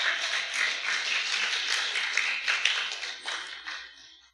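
A church congregation at a Sunday service claps together in a steady, dense burst of applause that fades out after a few seconds, with no talking over it.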